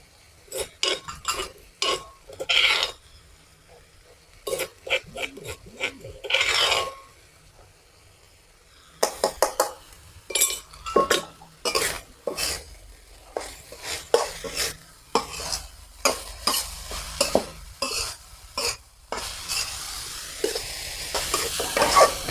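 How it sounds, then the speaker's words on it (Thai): Pounded chili and minced pork are stir-fried for dry-style basil pork. A spatula scrapes and clatters against the pan in quick repeated strokes under a soft sizzle, with brief pauses, loud and near, and no one speaking. "ขั้นตอนต่อไปก็ใส่พริกที่เราตำไว้ลงไปเลยค่ะ"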